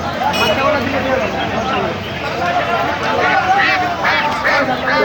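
Ducks quack repeatedly at a busy Sunday poultry market where ducks and chickens are sold, harsh calls rising over constant crowd chatter and nearby talk.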